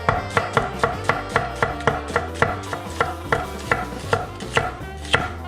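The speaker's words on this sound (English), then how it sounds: "I'm peeling the onion, and today I'm using a Japanese vegetable cleaver" A Japanese vegetable cleaver cuts an onion on a cutting board, a steady run of crisp, evenly spaced chopping knocks heard up close with no talking.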